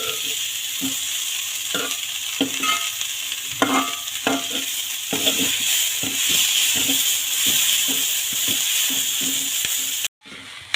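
Moringa leaves sautéing for thoran in a pan, with a steady close sizzle broken by repeated scraping, clattering stirs over about ten seconds before an abrupt cutoff.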